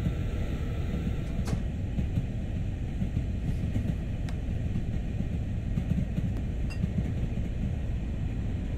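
A Long Island Rail Road train in Train Sim World runs steadily at around 40, its low rumble and rolling noise continuous throughout with occasional faint clicks and squeaks over the top, and no voices.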